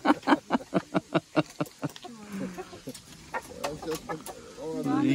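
A rapid series of sharp pecking taps, then a rooster clucking and murmuring up close while a person talks softly nearby.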